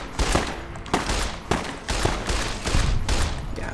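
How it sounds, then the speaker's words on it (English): 10mm pistol gunfire in the Fallout: New Vegas video game, several sharp shots fired in quick irregular succession, loud and close with no talking. "So I'm going to use my 10mm pistol."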